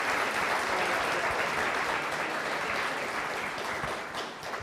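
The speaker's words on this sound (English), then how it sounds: "Let's give these guys a big round of applause for their information today." Steady, full applause from a conference audience at a city league annual conference session on housing, a dense wash of clapping that continues evenly throughout with no speech over it.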